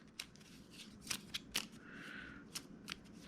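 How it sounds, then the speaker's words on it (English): A deck of cards for the deck-building card game Shards of Infinity gets a light, quick shuffle, heard as faint, scattered clicks and snaps against a quiet room. "Let's do another light little crappy shuffle here."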